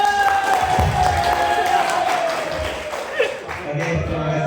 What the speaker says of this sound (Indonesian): Beri tepuk tangan kepada beliau.